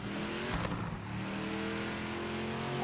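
Race car engine in the racing video game Project Motor Racing, a steady loud droning roar with a sustained rev tone throughout, heard alone without talk.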